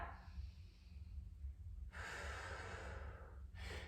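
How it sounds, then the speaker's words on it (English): Deep breath taken during a yoga flow in a lunge, a soft airy inhale and exhale rising after a quiet stretch, close and breathy over low background hum. "Take a deep breath."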